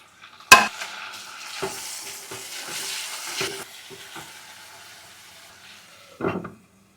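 Onion and tomato pieces frying lightly in a pan for a tamarind-leaf fish curry, with a soft steady sizzle, a sharp clatter near the start, several stirring scrapes and a final burst of stirring near the end.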